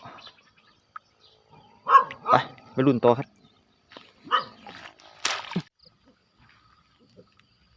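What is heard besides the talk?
dog barking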